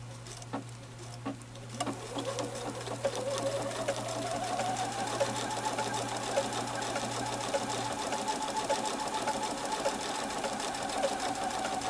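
A sewing machine stitches machine smocking, its needle chattering in a fast steady rhythm with a slight rise in pitch as it runs, close and continuous after a few quiet handling taps.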